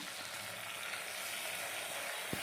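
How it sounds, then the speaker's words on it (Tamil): Small onions and curry leaves sauté in hot oil, giving a faint, even, continuous sizzle heard alone, with one brief soft knock near the end. "வெங்காயம் ஓரளவுக்கு வதங்கின பிறகு நம்ம வாஷ் பண்ணி வச்சுருக்கிற கருவேப்பிலை கொஞ்சமாக ஆட் பண்ணிக்கலாம்"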